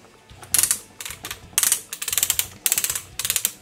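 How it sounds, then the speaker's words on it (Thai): Plastic ratcheting gear joint in the arm of a Transformers Starscream figure, an oversize KO of MPM-10, clicking in several quick bursts of sharp clacks as the arm is moved, close and with no talk. "เป็นเฟืองนะครับแบบนี้นะครับเป็นเฟืองนี่เสียงเฟืองนะครับชัดเจน"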